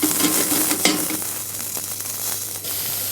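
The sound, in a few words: aromatic vegetables frying in olive oil in saucepan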